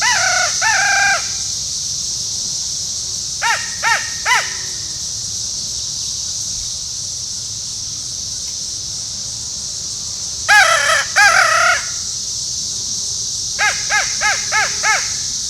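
A hunter's crow call sounds during hot-weather Tennessee turkey hunting, blown in loud bursts of raspy caws: several rapid caws, a pause, another short series, then two more clusters over a quiet outdoor background.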